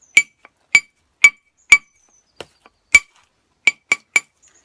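Copper tools striking a large stone slab while knapping a Haskett point: about nine sharp, ringing clinks at uneven intervals, with a few fainter taps between them. The strikes are close and clear, and no voices are heard.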